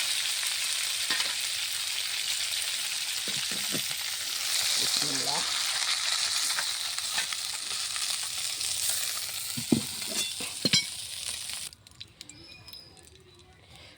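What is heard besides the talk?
fish frying in a pan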